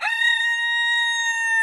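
A chicken in a backyard coop gives one loud, sustained, tonal call that holds steady for under two seconds, close and clear with nothing else audible.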